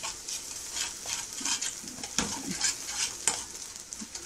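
Chopped chard and garlic fry in a pot on the stove with a steady sizzle, while a spoon scrapes and stirs the greens in repeated strokes and occasional sharper knocks against the pot.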